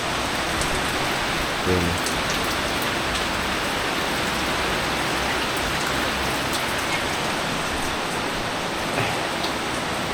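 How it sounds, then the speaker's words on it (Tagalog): Steady, heavy rain pours down continuously, a dense hiss of drops on surfaces with a faint voice briefly audible underneath. "umuulan na naman"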